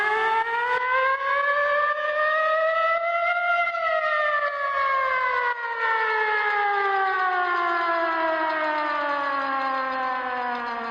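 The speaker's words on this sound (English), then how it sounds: "that goes into a siren right here" Rising and falling harmonic wail of a siren sample used in a guitar beat made in Ableton, sweeping slowly up then gliding down, loud and continuous with no voices.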